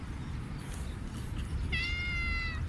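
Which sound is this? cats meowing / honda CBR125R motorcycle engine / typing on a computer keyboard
cats meowing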